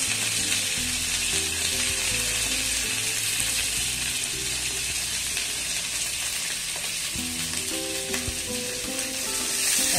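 Sliced onion and curry leaves fry in hot oil for a South Indian masala dosa filling, giving a steady, close, even sizzle that lasts the whole stretch with no talking.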